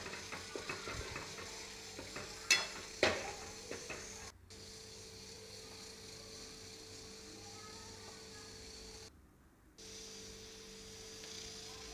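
Turmeric and red chilli powder are stirred into a gathiya curry base in a pan. A few quick spoon clinks and scrapes come early, then a faint, steady frying sizzle carries on, with no talking.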